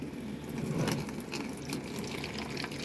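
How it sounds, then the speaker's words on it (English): Water poured from a container onto coco coir bedding resting on a hard brick makes a close, continuous splashing and trickling that stays steady for a few seconds, with no voices. "So let me get this water, and this may not be enough water, but let's see how it bounces off the material too."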